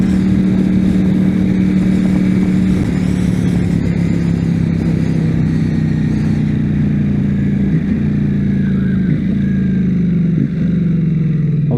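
A Ducati Panigale V4S on Pirelli Supercorsa tyres is ridden with a steady, loud engine drone and a low hum that dips slightly at moments, under continuous wind rush with no speech.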